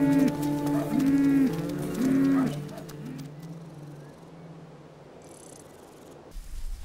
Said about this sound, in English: Cattle also share the park.